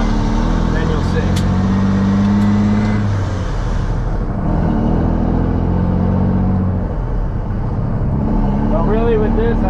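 A truck engine rumbles steadily from inside the cab while driving a back road, a low continuous drone with a voice talking over it.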